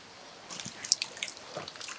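Warm spring water drips from rock, a few small close drips and soft trickling patters scattered over a quiet watery background.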